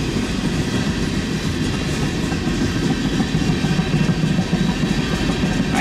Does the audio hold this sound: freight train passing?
yes